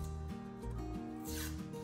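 A paper-and-foil wrapper is peeled back from a refrigerated biscuit can, giving a steady rasping, tearing rustle that runs close and continuous for about two seconds, with no talking.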